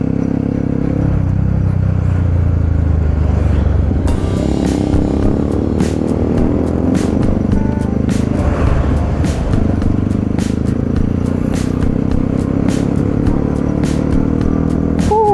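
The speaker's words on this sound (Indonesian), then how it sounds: "Naik motor WR guys." A WR motorcycle ridden along a road heads toward Bromo, its engine droning steadily and loudly throughout, close and continuous with wind rush and passing traffic.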